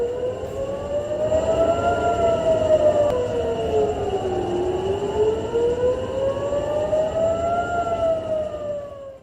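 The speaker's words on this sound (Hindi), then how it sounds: "हमले के सायरन बजने लगे हैं" Air raid warning sirens wail loudly and continuously, their tone slowly rising and falling in long sweeps, with no voices over them.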